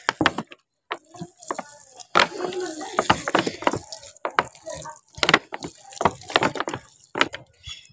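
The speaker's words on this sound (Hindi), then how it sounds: "अच्छा खासा पानी दे दिया" Water from a watering can splashes and patters onto garden soil in uneven bursts, with scattered drips and knocks between, a person speaking briefly at times.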